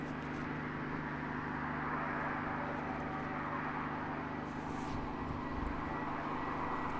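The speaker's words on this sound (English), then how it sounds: "I believe that's the Flying Doctor's plane started up. It's taxiing up." The Flying Doctor's plane taxis at Christchurch Airport in fog, a steady, fairly distant engine drone and hum that holds even and unbroken with no talk over it.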